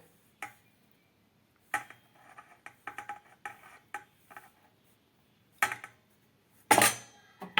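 Spatula clinks and scrapes against a bowl as flour is gradually folded into eggless strawberry sponge cake batter. The soft, intermittent taps are separated by pauses, with a louder clatter near the end.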